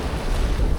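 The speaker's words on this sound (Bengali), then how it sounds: "ঢেউ আসলো" Sea waves at Cox's Bazar beach give a brief, loud rush of surf and wind noise close to the microphone, with no voices.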